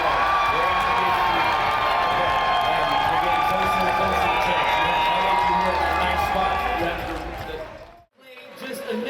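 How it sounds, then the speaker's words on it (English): A large crowd at a Call of Duty esports major in Toronto cheers and shouts loudly and continuously, with a voice talking over the roar before it cuts off abruptly near the end. "Everyone's cheering for Clayster to get an interview"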